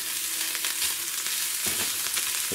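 Chopped onion sautés in hot oil for dal tadka, a continuous close sizzle and crackle with occasional scraping stirs, and no voices.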